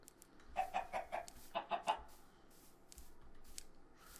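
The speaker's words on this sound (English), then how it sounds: "There's another chicken that we could get." Chickens in the video game Minecraft cluck in two quick bursts of three or four short, bright calls, fairly close and clear over a quiet background, with no talking.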